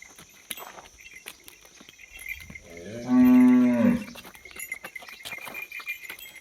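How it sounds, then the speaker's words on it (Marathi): A single loud, drawn-out moo from a large ABS cow rises from a quiet, faintly hissing background and lasts about a second. "गाय मोठ्या मापाची, अतिशय गरीब बिगर बाला, कुठल्या प्रकारची खोडकाड नाही"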